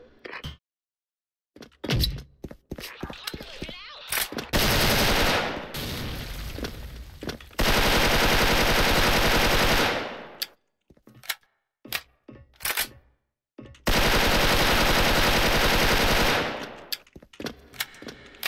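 Rapid bursts of Special Force video game gunfire from an M4A1, loud and sustained, with long automatic volleys broken by short single shots and brief pauses, plus a few scattered exclamations.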